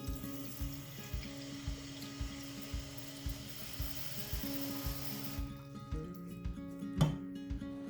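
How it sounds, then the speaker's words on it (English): Water runs from a tap into a container at a steady, soft level, accompanied by a regular mechanical ticking, and the flow cuts off near the end. "Let's fill up this water real quick."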